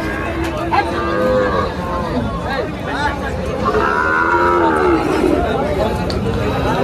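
Cattle low repeatedly at a busy cow market selling bulls and heifer calves, loud and close, with people chattering and a crowd murmuring throughout.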